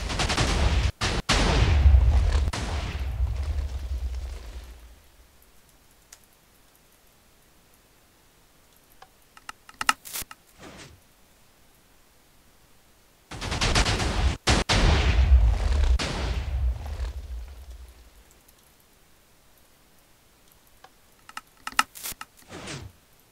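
Loud cannon blasts from a Minecraft-style gametick nuker cannon, two heavy bursts of rapid booming shots each rolling into a long decaying rumble, followed by scattered sharp pops and clicks.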